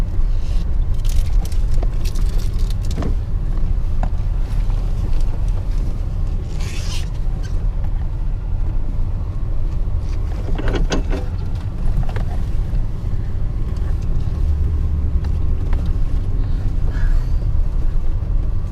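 A two-wheel-drive pickup truck driving on brand new summer tires, a steady, loud low rumble of engine and road noise that continues throughout with no talking.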